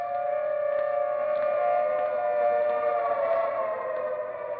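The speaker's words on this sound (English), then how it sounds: "The siren is a musician of no value, knowing only one tune" A steady, sustained wail of an air raid siren drones without pause, loud and unwavering across the whole stretch.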